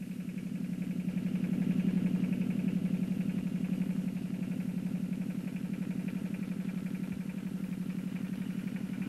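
A worn tractor engine runs with a steady low, pulsing chug and faint clatter, heard continuously at moderate level with no voices, as from an old 1950s recording.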